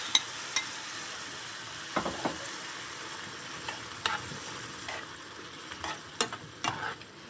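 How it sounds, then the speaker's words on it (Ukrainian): Minced meat sizzles in a pan with a continuous moderate frying hiss, punctuated by occasional scraping and clinking stirs of a utensil, close by and without talk. "І сюди зараз виливаю Оце м'ясо. Фарш."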